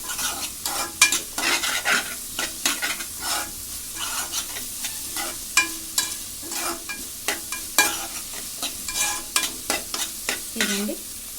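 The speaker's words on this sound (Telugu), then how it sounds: "దీంట్లో కొంచెం కారం వేసుకుందాం. ఒక్కసారి తిప్పుకుందాం అండి పచ్చివాసన పోయేదాకా" Chili powder is stirred in a sizzling frying pan while making ash gourd (aanapakaaya), with steady frying hiss broken by repeated sharp scrapes and knocks of a spoon against the pan, close and moderately loud.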